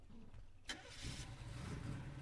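A pickup truck's engine starting in the shooter game Knives Out: a sharp crank at the start, then a steady mid-pitched idle rumble close by, with no talking.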